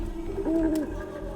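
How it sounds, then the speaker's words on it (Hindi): A single ominous bird call sounds out, a smooth rising and falling coo-like tone lasting under half a second, fairly close over a low steady rumble. "आपको उस अशुभ पक्षी की आवाजें सुनाई दे रही है?"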